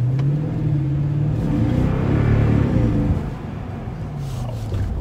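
A 2019 Toyota Tundra TRD Pro engine accelerates hard with a loud, deep rumbling roar that climbs in pitch, then eases back as the revs drop.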